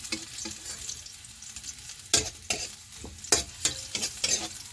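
A spoon scrapes and stirs through food sizzling in a frying pan while cooking an ohong mushroom dish, with irregular clattering strokes over a steady frying hiss, close and fairly quiet.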